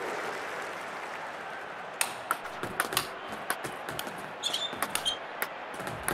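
Crowd applause in a London 2012 table tennis video game, short bursts of clapping and cheering rising over a steady arena hum, with sharp ball clicks scattered through.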